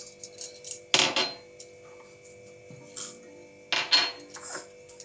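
Whole spices such as black pepper being stirred in a metal pan for biryani masala, a few sharp scraping, rattling bursts separated by quiet pauses, close and fairly faint.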